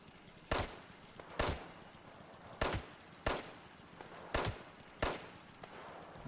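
Automated base turrets in Fallout 76 fire at super mutants, giving six sharp gunshot-like bursts spaced roughly a second apart, loud and close, with a low hum between shots.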